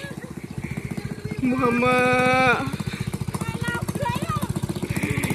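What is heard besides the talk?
motorcycle engine revving with racing exhaust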